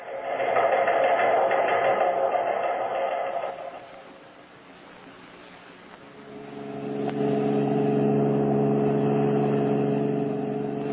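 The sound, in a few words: car driving, radio drama sound effect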